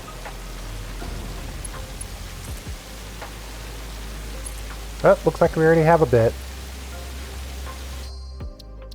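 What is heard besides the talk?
rain in the video game Satisfactory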